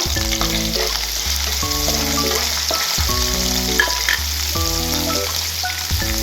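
Two green chilies and curry leaves fry in hot oil for pepper chicken, giving a loud, steady crackling sizzle, with stirring strokes and a droning tonal background hum beneath it.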